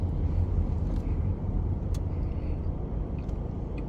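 Cars move through a road junction in Australia, a steady low traffic rumble with engine drone and faint passing swishes, heard continuously from close by with no clear single pass-by.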